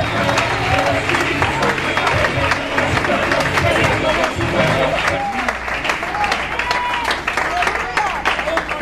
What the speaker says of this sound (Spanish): Un aplauso fuerte, fuerte, el aplauso a Dios.